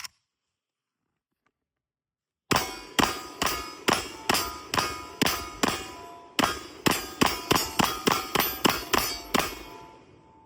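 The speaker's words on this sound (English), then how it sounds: "We're gonna use the AK here, get a couple rounds on the steel and see if the glass can take any shrapnel." An AK rifle fires a rapid string of rounds into a steel target, each hit a loud, sharp metallic clang with ringing decay, coming in quick regular bursts after a silent lead-in, with no talk.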